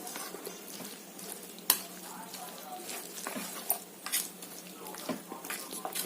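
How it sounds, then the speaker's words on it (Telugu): Omelette batter with a little milk and salt is stirred in a bowl, making soft irregular tapping and scraping clinks of utensil against the dish, quiet and close, with a few sharper knocks along the way. "ఇప్పుడు బ్యాటర్ అయితే కలిపేసుకుందాం ఫ్రెండ్స్"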